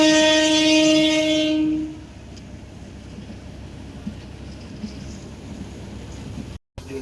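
A passenger train on the Dhaka to Cox's Bazar route opens with a loud, sustained horn blast for about two seconds, then settles into a steady low rumble of wheels on rails with faint clatter. No one speaks.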